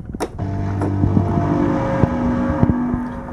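Game sound effect run through an 8-bit crush reverb, a loud buzzing motor-like drone with stepped harmonic tones and sharp crackling pops, heard alone.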